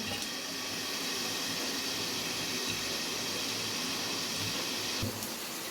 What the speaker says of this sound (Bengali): আলুগুলো ধুয়ে রেখে দিচ্ছি